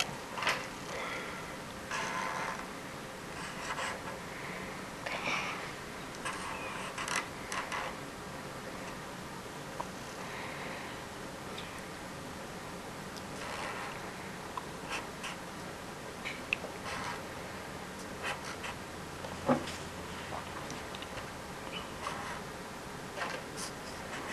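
A child handwriting the word Puddle, soft scratchy pencil strokes in short irregular bursts separated by pauses, faint and close in a quiet room.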